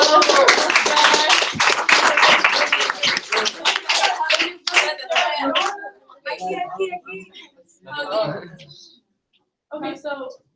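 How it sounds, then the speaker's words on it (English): Family members clap for Dad at a school Teleton activity, a dense burst of hand clapping for several seconds that thins out, with voices calling and chatting over and after it. "a round of applause for Dad"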